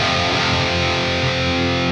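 A dense, buzzing electric guitar tone through a Neural DSP Fortin Nameless amp's distorted gain stage rings out continuously at steady loudness, thick with saturated harmonics, with no voices.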